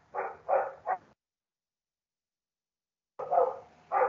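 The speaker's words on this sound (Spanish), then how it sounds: "Me están ladrando los perros, se escucha mucho." Dogs bark in a quick burst of three sharp barks, fall silent for about two seconds, then bark twice more, moderately close.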